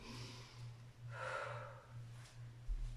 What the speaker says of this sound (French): Inspire. Des grands souffles.